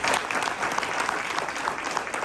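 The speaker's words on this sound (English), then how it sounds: "A big round of applause here for all our people." An audience claps at the close of a township education association candidate night, steady close applause from many hands, evenly loud throughout with no voices.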